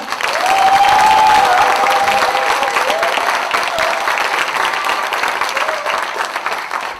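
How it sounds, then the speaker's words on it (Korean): A crowd applauds loudly at a Korean party leadership campaign rally in Incheon, sustained vigorous clapping with a faint tone or voice threading through the early part. "힘찬 박수 부탁드립니다."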